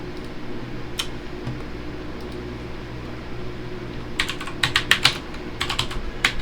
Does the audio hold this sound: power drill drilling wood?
no